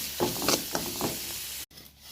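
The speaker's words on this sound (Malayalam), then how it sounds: "പപ്പടം ഇതുപോലെ ചെറുതാക്കി കീറി നമുക്കൊന്ന് വറുത്തെടുക്കാം" Small torn pieces of papadam fry in coconut oil in a pan, crackling in several close sizzling bursts before the sound cuts off abruptly.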